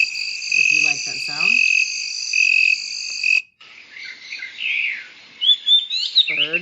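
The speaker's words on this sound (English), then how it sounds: "The crickets is nice" Steady high-pitched cricket chirping played from a white noise machine, a continuous electronic-sounding trill that runs for about three seconds, then gives way to brighter bird-like chirps toward the end.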